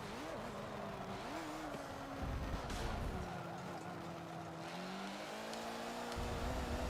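Race car engine in Forza Motorsport 7 drones steadily at high revs, its pitch rising and dipping through gear changes and corners, with faint tire noise and occasional brief voice in the background.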